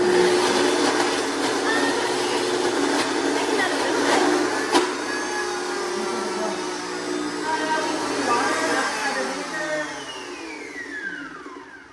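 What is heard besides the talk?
blender blending sweet potatoes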